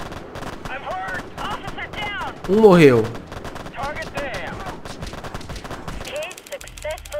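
Bursts of gunfire from a police tactics video game during an airport operation mission, a loud cluster of shots rising over game sounds and music, with someone talking over it.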